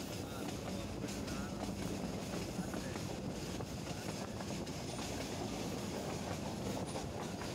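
Train running between Dhaka and Sylhet, heard from inside a coach as a steady, fairly quiet rumble and rattle of wheels on track with faint rhythmic clacks, while someone talks over it.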